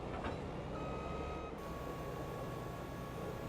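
A reversing tractor in the video game Back Roads County sounds a steady electronic reversing beep over loud engine rumble, continuous and close.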